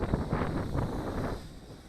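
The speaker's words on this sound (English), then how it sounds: "Probably got, I don't know, what, 20, 30 mile an hour gusts going on right now." Gusty wind buffets the microphone outdoors while a Blade 200 QX quadcopter flies without its landing gear, a loud, continuous rumbling roar that surges and eases over two seconds.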